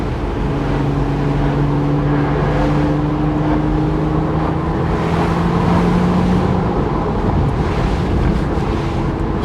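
A Porsche 987 Boxster driving on the road, with a steady loud engine drone and heavy wind rush, a rising tone sweeping up through the middle; no talking.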